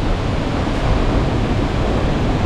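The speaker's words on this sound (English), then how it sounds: "And it's super windy!" Strong wind buffets the microphone outdoors in open paddock country beside a Mercedes-Benz Unimog expedition truck, a steady loud rumbling roar that continues without pause and with no talk.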